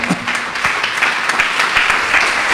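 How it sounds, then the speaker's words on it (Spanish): A church congregation applauding during a Spanish-language sermon, a dense steady wash of many hands clapping together for a couple of seconds, loud and close, with no voices over it. "Dale un aplauso al Señor."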